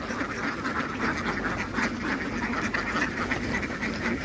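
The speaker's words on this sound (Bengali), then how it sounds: "এখন দেখেন কিভাবে হাঁস খাইতেছে" A crowd of Khaki Campbell ducks quacks continuously on a farm during feeding time, a dense, busy chorus of overlapping nasal calls heard close and loud throughout.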